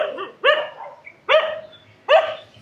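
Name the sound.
dog barking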